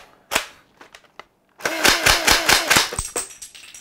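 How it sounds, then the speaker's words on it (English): A LeHui M416 blowback Nerf blaster, a toy gun that ejects shells, first gives a few sharp mechanical clicks and snaps. It then fires on full auto as a loud, rapid burst of close, clattering cracks lasting about two seconds. "Today we got ourselves a M416 which is capable of performing full automatic shell ejecting blasting."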